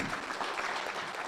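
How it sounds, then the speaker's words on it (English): An audience at a panel session applauds the speakers with steady, dense clapping that fills the whole moment, close and even. "Let's clap for them, please."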